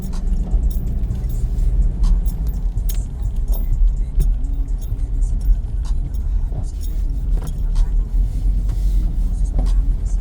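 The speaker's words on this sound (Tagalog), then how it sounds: "Tricycle. Ang sakit sa tenga." A tricycle engine passes along a street on a long drive, its rumble steady and close beneath general road noise, with a voice briefly audible.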